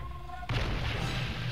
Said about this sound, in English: Ooh, and then some demolition ships taking out a lot of cannon galleons right there.